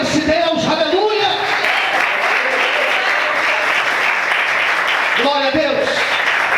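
A church congregation applauding during a sermon, a dense, loud wash of clapping that runs throughout, with a voice calling out over it at the start and again near the end.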